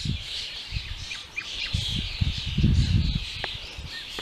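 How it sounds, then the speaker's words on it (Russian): Restless birds squawk and call outdoors in a busy, overlapping chorus, with rustling and handling noise up close and no talking. "Неугомонные птицы."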